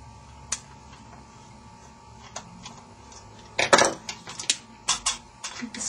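Small screws come out of a Pullip doll head, making sparse light clicks and a brief metallic clatter up close in an otherwise quiet room.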